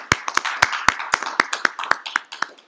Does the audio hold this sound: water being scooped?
no